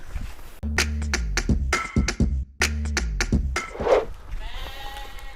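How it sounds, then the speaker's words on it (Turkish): Sheep on a small-livestock farm beside a highway, several loud nearby bleats in quick succession, layered wavering cries from a few animals, with softer rustling and a fainter call toward the end. "Koyunların olduğu tarafa geçebiliriz geçelim, abi."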